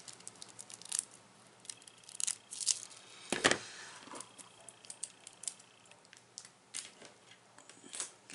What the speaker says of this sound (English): I have too much tape, so I'm just going to cut that away.